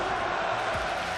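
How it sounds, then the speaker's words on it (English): A dense arena crowd roars and cheers for KOO Tigers at the League of Legends Season 5 World Championship grand final against SK Telecom T1, forming a steady, loud wall of voices throughout. "And here, once again, there is the crowd behind them."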